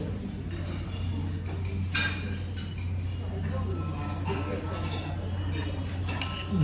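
A metal spoon clinks lightly against a plate while lifting soft malpua sweets at a buffet restaurant, with a few faint scattered taps over a steady room hum and background murmur.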